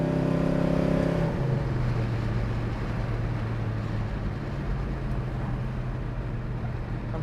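A 1970 Chevrolet Chevelle SS with cowl induction is driven on the road. Its engine tone drops sharply about a second in, then settles into a steady, moderately loud drone heard from the cabin.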